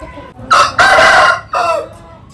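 An Aseel rooster crows loudly and close by, a strained drawn-out call broken into bursts, followed by a shorter throaty cluck-like cry near the end.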